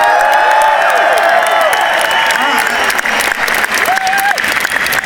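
A huge stadium crowd at a concert at Murrayfield Stadium, Edinburgh, applauds and cheers loudly and continuously, with whistles rising above the roar.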